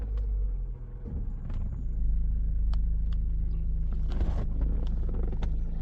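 A Renault QM5 gasoline SUV starts with a card key and settles into idle. A steady low engine rumble, heard from inside the car, grows slightly fuller partway through and holds constant.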